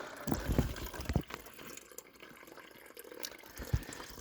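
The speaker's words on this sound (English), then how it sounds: "I'm just filling up my kettle." Water poured from a camp jug into a kettle in a camper, with gurgling glugs and splashes, louder at first and then thinning to softer trickles and a final splash.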